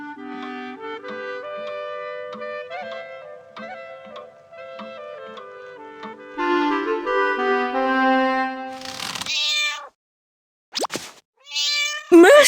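Kittens meow in the video game Heidi: The Mountains are Your Home, several mewing calls standing out clearly over soft background music, with a brief pause of silence before a final meow.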